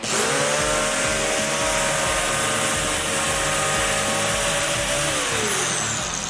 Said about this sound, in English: So now I'm gonna take this nice frayed brush and see what that does to the PVC.